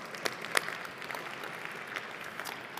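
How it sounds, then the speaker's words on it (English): Audience applause at a tech industry awards event, a fairly quiet, steady patter of clapping with a few sharper claps standing out, no voices over it. "I'd say that's worth an applause."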